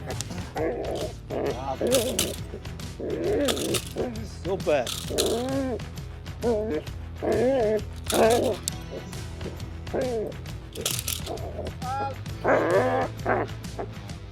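Dog barking and yipping in bursts during French-style bite defense training, close and loud, with someone talking over much of it.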